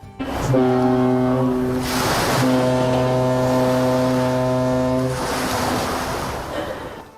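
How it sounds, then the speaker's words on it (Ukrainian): A deep, loud ship's horn sound blasts twice in long tones as a subway train arrives at a station in Busan, over a rushing, windy background hiss, with no talking. "коли потяг прибуває до певних станцій, лунає звук корабельного гудка"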